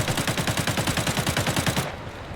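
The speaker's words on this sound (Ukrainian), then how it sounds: "але я чую, що на конюшнях стріляються" Rapid automatic gunfire in the video game Arena Breakout rattles in a steady burst of evenly spaced shots, loud and close, then cuts off abruptly.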